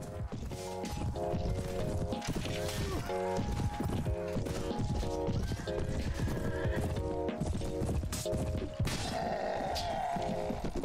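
Loud, busy rush of many hooves pounding in a gallop with repeated whinnies and neighs over it, along with scattered clashing impacts, from a horse archer battle in the Mount & Blade mod Prophesy of Pendor.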